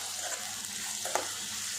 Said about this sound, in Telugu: ఇప్పుడు ఉల్లిపాయ ముక్కలు వేసుకోవాలండి. సాల్ట్ వేద్దామండి, ఉల్లిపాయలు మంచిగా ఉడికిపోతాయి తొందర